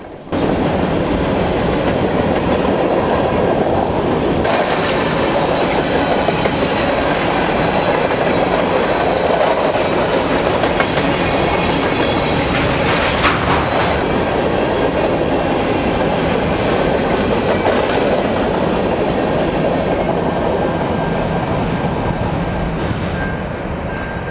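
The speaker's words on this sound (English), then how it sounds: "The train passes under Interstate 94 as it continues west." A train passes under Interstate 94 heading west, a loud, close, continuous rumble with clickety-clack wheel rhythm and faint squeals lasting the whole stretch.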